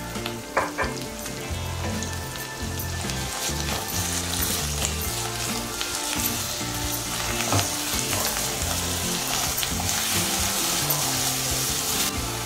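Ginger garlic paste, added to oil with curry leaves for a fish curry, fries with a steady loud sizzle and crackle, with faint clinks and stirring sounds mixed in.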